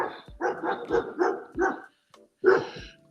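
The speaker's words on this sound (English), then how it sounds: "rather angry dogs are chasing me down" Angry dogs bark on a windy morning walk outdoors, several loud, close, rough barks in a rapid irregular run, then a short pause and one more bark, with no talking.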